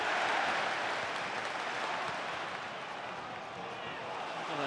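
Steady broadband applause and crowd noise fill a stadium during a Southampton v Portsmouth football match, a continuous wash of clapping that dips slightly midway and swells again at the end.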